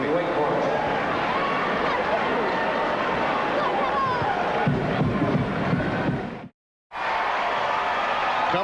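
A basketball crowd at Cameron Indoor Stadium cheers for Duke with a steady, dense roar of voices and babble that swells midway, then cuts out briefly before resuming.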